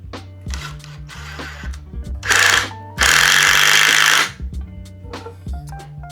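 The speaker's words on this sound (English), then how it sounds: "So now we need to try and drill everything up quietly." A power drill runs loud and close in two bursts, first a short whir and then a longer, sustained spin of over a second, over a steady low background hum.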